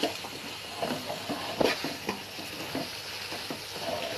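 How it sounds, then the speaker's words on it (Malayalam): Food sautés in a pan with a steady close sizzle, broken by repeated spatula scrapes and occasional sharper knocks as it is stirred. "വഴറ്റാനായിട്ട് വെച്ചിരിക്കുകയാണ് ഇനി ഇളക്കി ഇളക്കി കൊടുത്തിട്ടുണ്ടെങ്കിൽ"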